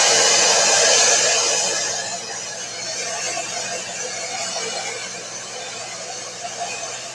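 A blow dryer runs continuously close up, a loud steady airy roar that eases slightly after the first couple of seconds, drying a mixed media altered clipboard.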